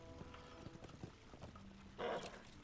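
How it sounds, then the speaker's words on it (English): Horse hooves clip-clop from Shadowfax in the Lord of the Rings Online game at Helm's Deep, light irregular hoofbeats over a busy game background, moderately near. "Unless I am very much mistaken, that horse is Shadowfax, Lord of the Maris."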